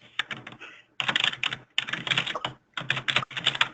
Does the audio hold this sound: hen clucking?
no